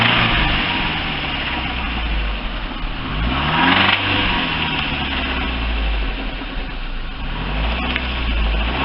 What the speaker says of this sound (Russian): Сейчас мы прогазуем.